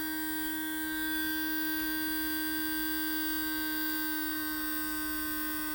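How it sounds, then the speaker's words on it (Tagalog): A steady electric motor whine, a torque-tuned motor breaking in at 12 volts, with a strong constant pitch and many stacked tones, running alone at an even level with no voices. "paangat na naman siya ng paangat yung tunog ng motor niya."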